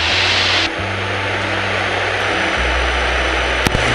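Small propeller airplane droning steadily in flight while entering the crosswind leg for runway 11 at Newberry, Lewis County, a continuous close engine hum with a shift in pitch partway through and no talk.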